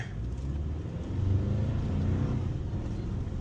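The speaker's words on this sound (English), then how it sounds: "I'm gonna accelerate" A Toyota Tacoma pickup accelerates gently in eco mode, its engine giving a low, steady rumble that swells slightly, heard from inside the cab without talk.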